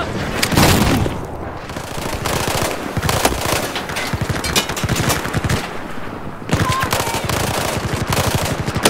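Sustained automatic gunfire in Battlefield 4 aboard the USS Valkyrie: loud, dense bursts of rapid shots with heavy booms, breaking briefly before erupting again close by.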